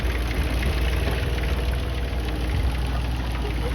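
A Ferguson tractor with a P3 engine pulls a plough at low revs, giving a steady, loud diesel rumble with an even knocking pulse throughout.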